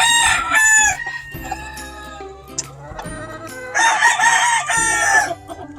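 Chickens, including pecan hens, on a Georgia farm: a rooster crows loudly and close in two long bursts, with clucking and murmuring fowl in between.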